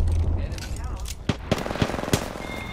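Gunfire in the video game Apex Legends, with a few sharp shots cracking over a dense, rumbling game background.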